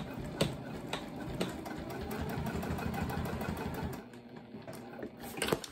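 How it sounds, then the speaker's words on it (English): A sewing machine stitches a tall tote bag in one continuous run of rapid, rhythmic needle clatter, close and fairly loud, then stops with a few clicks and no voices. "And then again, I'm just gonna sew all the way up."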